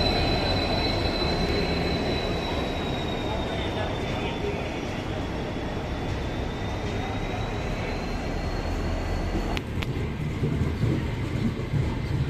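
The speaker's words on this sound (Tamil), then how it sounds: "நாகர்கோயிலேருந்து தாம்பரம் போகிற அந்தியோதயா தாங்க டிபாச்சர் ஆகி போயிட்டுருக்கு." The Antyodaya express from Nagercoil to Tambaram pulls out from the next platform, a steady loud low rumble of rolling stock with a faint high whine from the wheels, heard from close by at a station stop.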